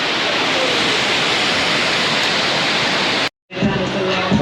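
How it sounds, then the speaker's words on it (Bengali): Banjhakri waterfall pours down with a loud, continuous broadband rush, close and steady, then after a brief cut the roar continues with people's voices over it. "বনঝাঁকড়ি যে ফলসটা দেখো, তো উপর দিয়ে ঝর্ণাটা পড়ছে নিচে"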